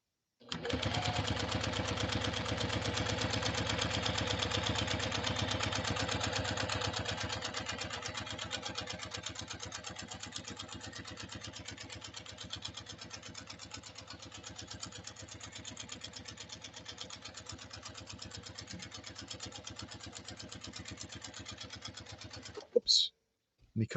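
A JUKI TL 2020 PE sewing machine runs continuously for over twenty seconds, a fast, even needle chatter that starts loud and eases slightly, ending with a brief stop and a couple of clicks.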